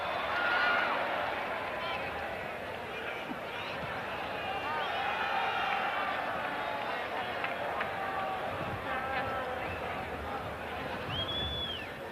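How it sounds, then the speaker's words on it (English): A stadium crowd at the 1986 World Cup match between Morocco and Poland roars steadily in the distance, cheering on Morocco beneath a commentator's voice. "The crowd getting behind Morocco again."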